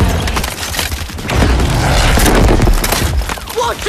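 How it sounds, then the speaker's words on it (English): Grenade launcher explosions in a video game boom loudly and continuously, a dense booming roar of blasts and gunfire swelling in the middle and holding strong to the end. "Launching grenade!"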